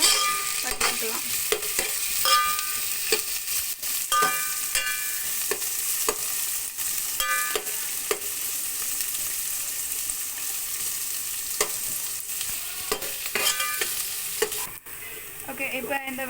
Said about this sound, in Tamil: கூடவே ஒரு 2 பச்சை மிளகாய் இப்படி நீளமாக கட் பண்ணி போட்டு எல்லாத்தையும் சேர்த்து நல்லா வதக்கிக்கலாம்